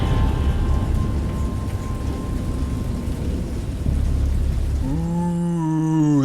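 A heavy thunderstorm rages in the video game Dagon, with dense, loud, steady rain and deep rumbling thunder throughout. Near the end, gliding tonal sounds rise over the storm.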